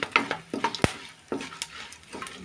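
Whole spices fry in oil for a stuffed eggplant curry, with a faint sizzle under sharp metallic clinks and scrapes of a spoon against the pan, spaced irregularly and close by.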